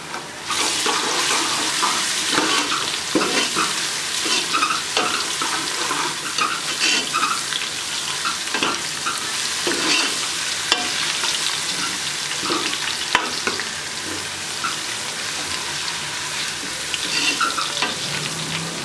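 Onion sizzles in a pan with ginger and garlic, a loud, steady frying crackle with repeated scrapes of stirring throughout.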